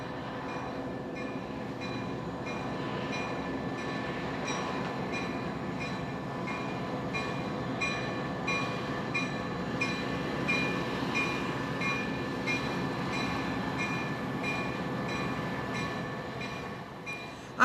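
An Amtrak Coast Daylight passenger train runs along the Pacific coast, a continuous rolling rumble with faint rhythmic wheel clatter and a thin high whine, steady and moderately distant throughout.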